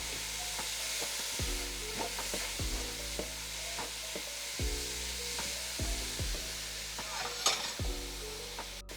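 Cheese and herb mushroom filling with Parmesan and coriander or parsley is mixed with a spoon in a bowl, steady scraping and stirring strokes with a few sharper knocks against the bowl, close and alone.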